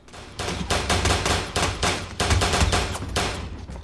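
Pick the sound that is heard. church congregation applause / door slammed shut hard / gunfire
gunfire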